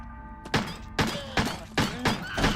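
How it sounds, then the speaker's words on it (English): Kicks land on objects in the video game Crow Country, five heavy, evenly spaced thunks about half a second apart, each a sharp loud impact with a short ringing tail over a faint game hum. "I wonder if you can kick those multiple times"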